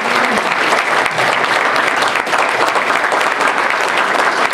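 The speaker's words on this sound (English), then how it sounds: "Big round of applause." Loud, sustained applause from a convention panel audience at the 2012 Boston Comic Con, a dense steady wash of many hands clapping that holds evenly throughout without a break.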